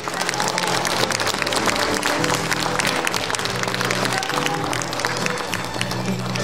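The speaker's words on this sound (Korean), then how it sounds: "박수 부탁드리겠습니다." An audience at the opening ceremony of the 2022 Nogeun-ri International Peace Forum applauds after a plaque presentation, a loud sustained clatter of many hands over a faint musical bed, with no voices on top.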